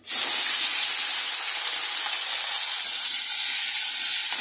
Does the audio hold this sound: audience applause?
no